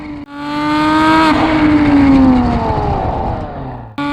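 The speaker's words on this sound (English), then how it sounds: "The exhaust sound is unedited except where there's voiceover." A Porsche Boxster S fitted with a Top Gear valved exhaust and race headers accelerates hard, its loud, rising engine note rasping for several seconds before cutting off abruptly, then resuming.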